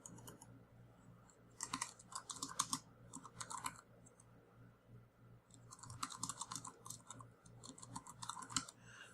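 Typing on an Inateck BK1003 Bluetooth keyboard, quiet close key clatter in two rapid bursts separated by a pause, with a faint steady hum underneath and no voices.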